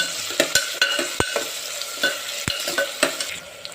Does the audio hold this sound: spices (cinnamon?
yes